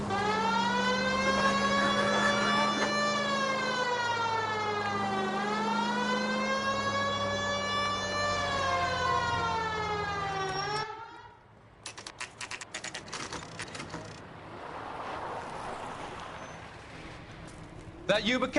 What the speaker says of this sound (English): You got something against sirens, Phelps?